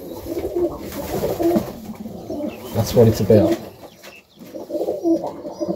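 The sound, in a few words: pigeons cooing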